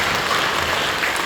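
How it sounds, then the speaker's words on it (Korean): A church congregation gives a dense, steady round of applause during a Pentecost Sunday worship service, many hands clapping together at a loud, even level with no talking. "박수를 보내주시고"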